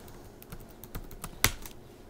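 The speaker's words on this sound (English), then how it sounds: "I just did not type the password in correct at all" A password is typed on a computer keyboard, with quick, soft key taps in an uneven rhythm and one sharper keystroke, all faint and close with no talking.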